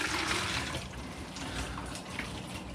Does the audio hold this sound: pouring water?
yes